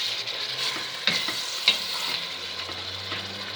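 Chicken pieces and onions fry together in a pot for bozartma, a close, steady sizzle broken by two sharp clinks of a utensil stirring against the pot, with no talking.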